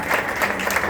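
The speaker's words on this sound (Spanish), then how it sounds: "Denle un fuerte aplauso al Señor." A church congregation breaks into dense, steady applause during a Sunday service, a full wash of many hands clapping at once with no voices over it.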